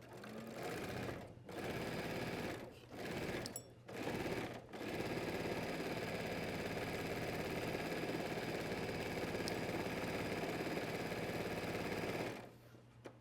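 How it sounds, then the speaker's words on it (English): A sewing machine stitches the center back seam of a men's waistcoat, running in steady, loud bursts with brief pauses between, then one long continuous run before stopping. "I'm stitching down the center back seam."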